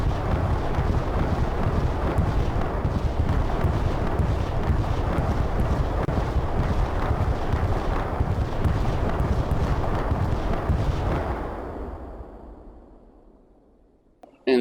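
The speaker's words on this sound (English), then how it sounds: "Check out this distant airstrike." A distant airstrike in Hell Let Loose, heard as a long, broad, rolling rumble of far-off explosions that fades slowly into near silence before a brief sharp sound at the very end.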